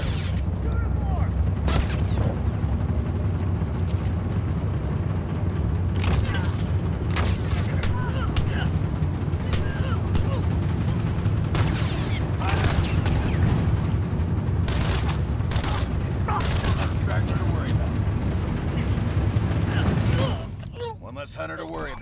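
Tactical shotgun blasts in The Last of Us DLC, loud booming shots at irregular intervals over a steady rumbling game soundscape. Near the end the din drops off into quieter ambience.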